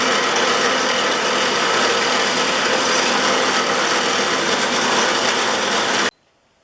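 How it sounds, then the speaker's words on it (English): A spinning wire wheel scrubs the lateral adjustment lever of a Stanley No. 5 1/2 SW jack plane, giving a loud, steady, even whir with no voices that stops abruptly near the end. "My sanding stick will clean up the lateral adjustment lever, at least up to the point where I can take it over to my wire wheel."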